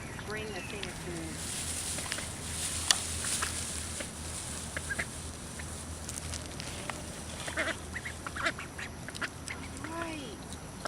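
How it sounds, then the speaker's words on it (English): Released mallard ducklings quack and peep outdoors at close range, their calls scattered across the stretch while people talk over them. "Well, there are the ducks."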